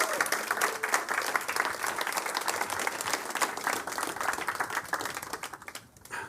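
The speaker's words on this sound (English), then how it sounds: "Energetic round of applause." A conference audience applauds as a panel comes on stage at an industry event about connected TV. A full, sustained round of clapping from many hands fades slightly near the end.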